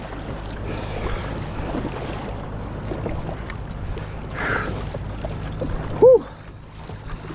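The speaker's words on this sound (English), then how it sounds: "All right, paddle out of here and we'll be good" An ocean kayak paddles out past the surf break, with steady wind and water wash close to the microphone, soft paddle strokes and a brief louder splash or bump near the end.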